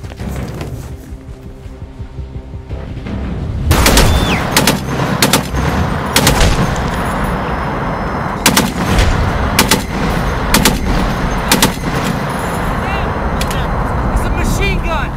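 Rapid machine gun fire from a Detroit Become Human gameplay scene, loud bursts of closely spaced shots repeating over a dense, rumbling battle backdrop after a quieter opening, with a voice talking underneath.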